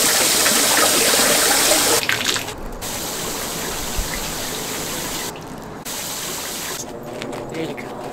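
Water drains steadily from a nearly full RV tank with a continuous rushing gush, loud and close, then drops to a softer flow with a few brief gaps near the end.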